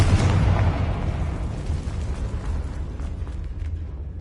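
A Confringo fire spell bursting in Hogwarts Legacy: one loud, deep explosive boom at the start, rolling off into a long rumbling tail that stays heavy in the low end.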